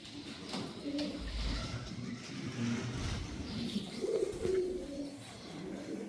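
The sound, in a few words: Rampuri Kalanji pigeon cooing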